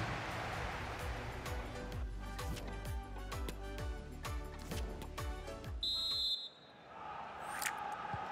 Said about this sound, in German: Da kommt der Pfiff.